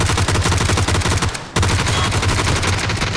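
Loud, rapid gunfire from the battle royale game PUBG fills the moment, a dense stream of shots with a brief pause in the middle before the burst resumes, with no voices over it.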